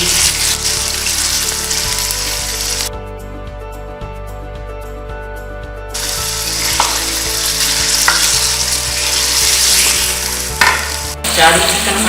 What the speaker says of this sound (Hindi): हम चिकन को भून रहे हैं दरमियानी आंच पे